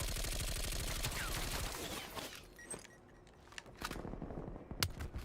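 Gunfire in a multiplayer shooter game: a dense rattle of shots gives way to sparser, isolated cracks, with one sharp distant report standing out near the end, all fairly faint.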